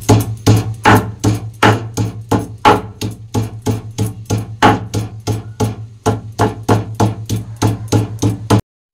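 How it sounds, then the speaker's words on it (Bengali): Leaves crushed by hand on a stone grinding slab without water, a steady run of about thirty sharp, evenly paced knocks and scrapes, close and loud, with no talk. "মা কিন্তু পাতাগুলো আগে থেঁতো করে নিয়েছে, নিয়ে তারপরে বাটছে"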